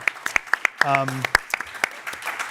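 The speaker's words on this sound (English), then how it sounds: "Let's give them all a round of applause for making this all happen." Scattered claps from a live audience at a climate event mark a round of applause, sparse and uneven at first, with a voice speaking over them midway.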